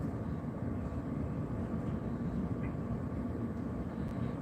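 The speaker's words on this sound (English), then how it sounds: "Goes the chicken feed truck." A chicken feed truck rumbles past as a steady, low, broadband engine and road roar that holds at an even level without a clear rise or fade.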